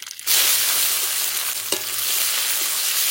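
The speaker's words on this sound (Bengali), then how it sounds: "তার সাথে দিয়ে দেবো কোচানো পেঁয়াজ।" Sliced onions hit hot oil with bay leaf and whole cumin for a village fish curry, bursting into a loud, sudden sizzle after a brief quiet start, then a steady crackling fry with a faint clink midway, no voices.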